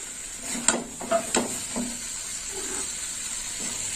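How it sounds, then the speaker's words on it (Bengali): Elephant foot yam and potato being stirred into a gravy in a pan, with a few soft scraping knocks of a spoon over a steady low sizzle, close by and quiet. "আর ওল আলু দেওয়ার পর আর একটু নেড়ে চেড়ে নেব।"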